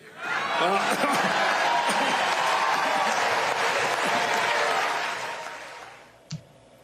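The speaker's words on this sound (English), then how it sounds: "You hear that cheering?" A large crowd at a political rally in Texas cheers and applauds in a loud, sustained roar with shouts and some laughter, easing off near the end before a single sharp knock.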